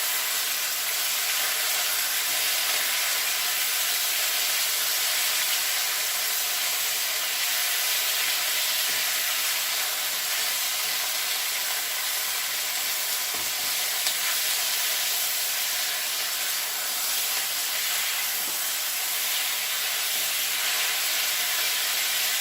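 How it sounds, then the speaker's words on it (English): Beef and broccoli stir-frying in a hot wok, with a loud, continuous dense sizzle and hiss of steam that barely varies throughout, close up, with occasional faint clinks of stirring. "I can't believe I'm sitting here cooking this really noisy food while you're watching"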